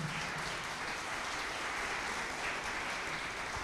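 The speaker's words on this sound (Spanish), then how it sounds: "Denle ese aplauso a Él por eso." Church congregation clapping during a sermon, a steady, fairly faint and distant wash of applause with no distinct voices.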